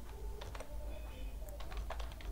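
Computer keyboard typing up close, a quick scatter of soft key clicks in short bursts with small gaps, faint over a low steady room hum, no talking.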